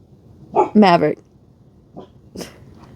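A pet dog gives small, soft barks and whimpers, a short cluster of yips near the start followed by a couple of faint whines, close by in a quiet room.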